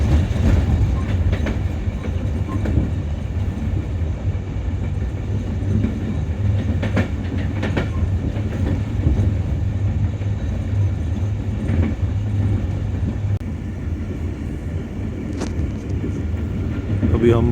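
A train rolls past on the railway line near Bholari, a steady low rumble with faint clickety-clack of wheels holding for the whole stretch, close and loud, with a few brief sharp squeaks scattered through it.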